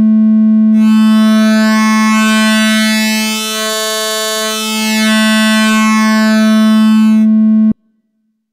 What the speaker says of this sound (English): For sharper triangle tones, there's the metallizer.